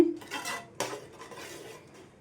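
A spoon clanks against a pan while chickpea masala curry is mixed, two louder metallic scrapes followed by softer, fading stirring sounds, close and fairly quiet.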